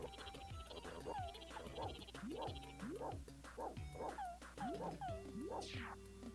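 A dog barks repeatedly in the SNES game Beethoven, a chiptune-style synthesized yap that repeats in a steady rhythm of short, downward-swooping calls over looping background music.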